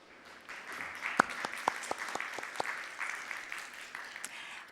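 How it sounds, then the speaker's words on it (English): Audience applause at a World Knowledge Forum session welcoming a speaker, a moderate, steady patter of clapping from a medium-sized crowd with a few sharper claps standing out, fairly distant and without speech. "Please welcome Ms. Jennifer Moon with a big round of applause."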